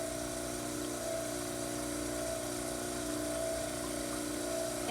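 A dental model trimmer grinds the base of a mandibular cast with a continuous, even motor drone and abrasive whir that holds steady and close throughout.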